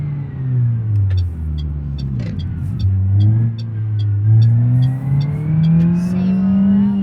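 A car engine in the video game BeamNG.drive hums and revs through shifts, pitch climbing and dropping steadily with a faint rhythmic ticking above, loud and continuous.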